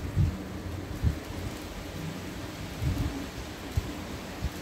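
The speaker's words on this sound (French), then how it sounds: "Oula, little tempête." Rain from a strong morning thunderstorm near Grenoble in the Alps falls steadily while low thunder rumbles in several short bursts, fairly faint and with no voices.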